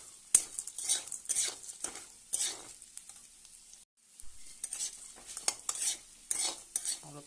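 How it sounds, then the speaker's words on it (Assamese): Maggi noodles being stirred in a pan, with repeated scraping strokes of a spoon against metal in an uneven rhythm over a soft sizzle, close and moderately quiet, with a brief pause midway. "এতিয়া ইয়াতে মেগীখিনি এড কৰি দিম। আৰু এড কৰি অলপ লৰাই থাকিম।"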